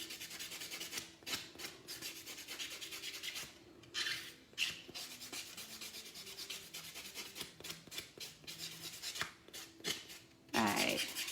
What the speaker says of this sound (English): Buffing is not as intensive a process as I make it look.